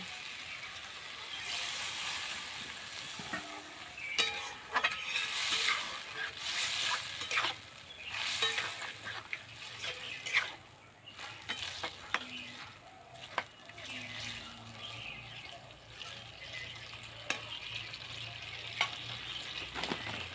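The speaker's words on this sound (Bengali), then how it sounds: "দেখুন পটল আর আলু মশলার সাথে ভালো করে কষিয়ে নিয়েছি। এবার দিয়ে দেব জল।" Potol and potato cooking in masala in a pan hiss with a steady sizzle, broken by stirring scrapes and clicks and a surge when water is poured in, close and continuous.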